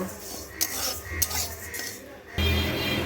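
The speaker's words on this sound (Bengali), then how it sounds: "কড়াইতে আমি ডালটাকে দিয়ে দিলাম দিয়ে ভালো করে লাল লাল করে ভেজে নেব" Moong dal dry-roasting in a wok gives a few metal scrapes and clinks as a spatula stirs it. The sound is close and brief, with a soft hiss underneath and no talking.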